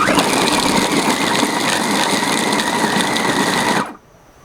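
A Dreepor multi-food processor grinding chicken whirs with a loud, steady motor drone and a chopping buzz for nearly four seconds, then cuts off abruptly into quiet.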